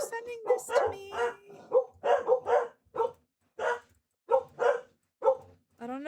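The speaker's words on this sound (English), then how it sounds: "my dogs are barking" Pet dogs barking loudly and close by in a run of repeated sharp barks, with quick clusters and short pauses, plus a brief whine near the end.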